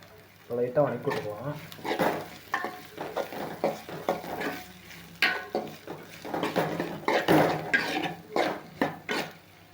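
Vegetables for veg kurma being stirred and tossed in a frying pan, with repeated scraping and clinking of a spoon against the pan over a steady sizzle, close and fairly loud.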